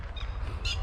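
Birds give a couple of short, harsh squawks close by over a low background rumble.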